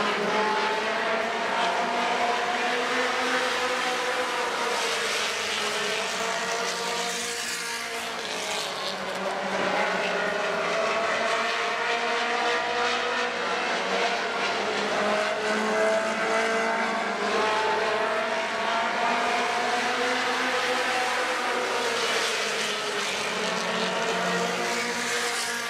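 Race cars roar around a dirt track during a modified feature, engines droning continuously with rising and falling pitch as they pass, loud and sustained with no voices.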